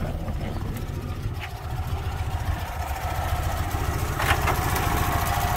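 A cold Fiat 126p air-cooled engine idles roughly with the choke partly on, a close, uneven, throbbing putter that runs steadily throughout.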